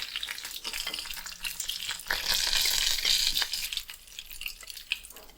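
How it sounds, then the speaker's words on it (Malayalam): Chicken pieces deep-frying in hot oil give a dense, bubbling sizzle, with stirring and lifting clatters that surge louder midway through, close-up and with no talking. "ഇനി ബാക്കിയുള്ളതും കൂടി നമുക്ക് വറുത്ത് കോരിയെടുക്കാം."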